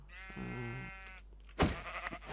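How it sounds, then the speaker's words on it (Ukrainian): Sheep bleating in a video game, a long wavering bleat followed by a sharper second call, clear and close over a steady low background hum. "вівці"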